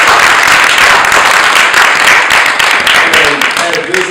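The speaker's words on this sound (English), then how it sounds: "let's give our panelists a round of applause" A Louisiana civil rights panel audience applauds the panelists with loud, dense clapping that fills the whole stretch and thins slightly near the end.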